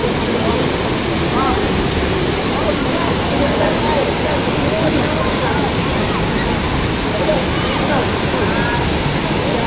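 Daranak Falls in Tanay, Rizal, pours with a steady, dense roar of falling water that holds at an even, loud level throughout, with faint crowd sounds beneath it.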